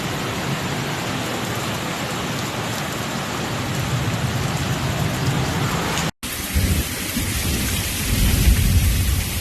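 A destructive thunderstorm in Argentina brings heavy rain in a loud, steady roar of downpour throughout, with low rumbling thunder swelling toward the end after a brief cut.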